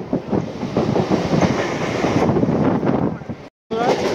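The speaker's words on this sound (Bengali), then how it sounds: "আমাদের ট্রেন ক্রস করছে বেলুড়" A train runs on rails near Belur, Kolkata, heard from on board during rain as a loud, continuous rumble with rhythmic clatter and wind buffeting, cut by a brief dropout near the end.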